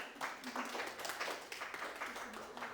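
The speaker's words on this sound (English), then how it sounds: "Round of applause." A small audience at a history talk on Thanksgiving claps in a brief, even burst of applause under a murmur of voices.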